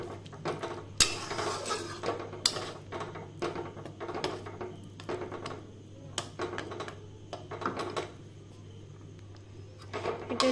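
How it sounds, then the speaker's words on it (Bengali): A spoon stirs cheesy white sauce with vegetables in a pan, making repeated metallic clinks and scrapes against the pan in an uneven rhythm over a low steady hum, heard close. "এবার এটাকে ভালো করে মিক্স করো।"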